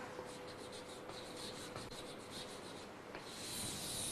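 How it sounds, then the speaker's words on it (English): Marker or chalk writing on a board in a science lesson: faint, continuous scratchy rubbing strokes in short irregular runs, quiet and close. "Again, I will be writing metals over here"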